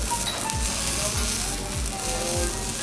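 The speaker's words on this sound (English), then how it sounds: "Just listen to that sizzle." Steady, close sizzle of a beef cutlet frying on a grill, with a crackling hiss throughout, broken by a few low thumps at regular intervals.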